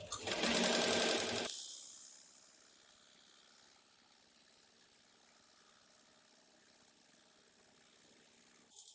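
A 7273CNC extra heavy duty programmable sewing machine winds a bobbin, a brief loud whir of the motor at the start that then drops to a faint steady hum.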